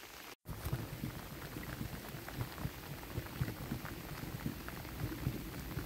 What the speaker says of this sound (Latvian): Lietus līst.